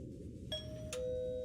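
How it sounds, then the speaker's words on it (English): A video-game doorbell rings with a clear two-note ding-dong chime, the second tone held and ringing out over a low, steady background. "as I press the doorbell for the fourth time. Its shrill ringing merely echoes"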